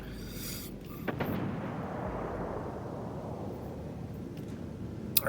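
Heavy naval guns thunder from a twelve-gun battleship in World of Warships Legends, a sharp booming salvo followed by a long rumbling decay that fills the rest of the moment, with a faint click near the end.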